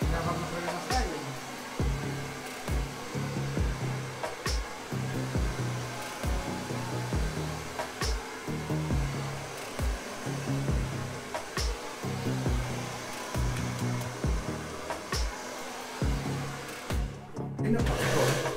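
A handheld hair dryer blows loudly and continuously during a child's home haircut, with its airflow pulsing in a rough rhythm before it cuts out near the end.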